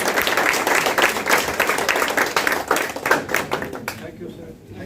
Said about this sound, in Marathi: टाळ्यांचा आवाज अजूनही कमी असतो